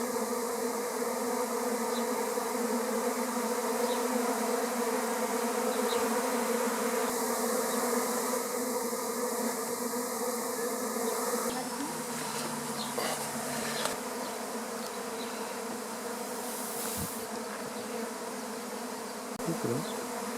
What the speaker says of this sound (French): les abeilles sont organisées et vont très très vite rentrer dans la ruche